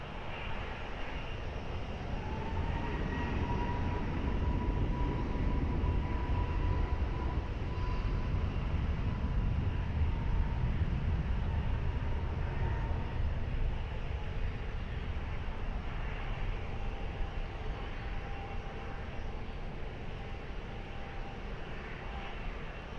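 Alpine flight 903 jet taking off from runway 20 at Lisbon Airport, a broad, sustained engine roar with a rising whine that fades slowly as the plane climbs away, loud throughout with no voices.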